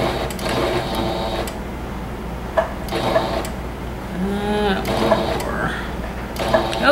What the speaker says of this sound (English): I'm going to do a back stitch just to secure that, and go forward again.